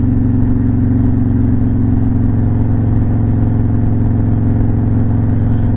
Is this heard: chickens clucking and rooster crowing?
no